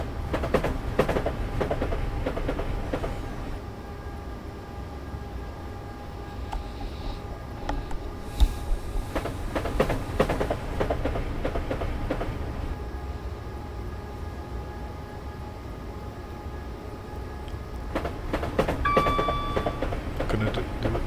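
A passenger train in the Train Simulator ThirdRails add-on rolls along the rails with a low rumble, scattered clicks and clunks from the wheels, and thin tonal whines and a short chime-like tone near the end.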